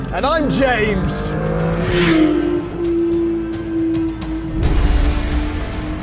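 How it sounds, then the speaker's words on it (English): A 2024 Porsche 911 S/T engine revs and roars past, with a sustained high engine note and tire noise, while people talk over it. "the blue blur making that sound is the new Porsche 911"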